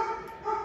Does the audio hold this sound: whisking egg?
no